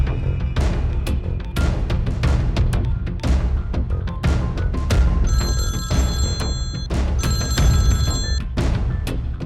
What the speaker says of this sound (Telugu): హే, దుగ్గల్కి ఫోన్ కొట్టు.